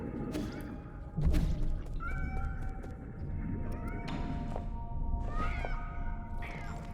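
Cats meowing in the video game Nine Sols, several short mewing calls rising over a steady ambient game soundscape with low rumbling music.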